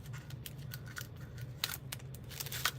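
Scissors snip material at close range in a quiet room, a rapid series of sharp, crisp cuts in an uneven rhythm over about three seconds.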